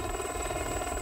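Steady whirring drone of a helicopter in flight, rotor and engine running continuously with a thin high whine, loud and unbroken with no talk.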